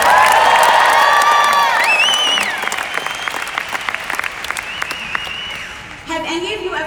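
An audience at a talk on personal development and the workplace claps and cheers loudly, with high whoops and shouts over dense applause that gradually thins into scattered clapping.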